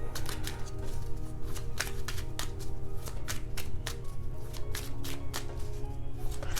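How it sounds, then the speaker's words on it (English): Tarot cards are shuffled by hand in a rapid, even run of crisp flicking snaps, close and continuous for several seconds with no voice. "So I'm going to pull a few clarifying cards to get a little bit more information."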